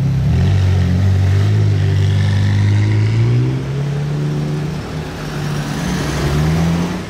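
A sports car, a Corvette, drives through Monaco near Place du Casino, its engine droning loud and close with a steady, rising tone, easing briefly before swelling again.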